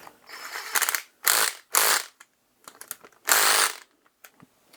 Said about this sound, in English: if you've got an impact driver, this makes this easier